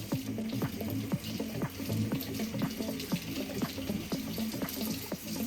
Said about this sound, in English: give everything a good rinse one last time